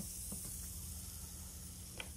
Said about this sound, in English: you just add water and it makes this cool sizzling sound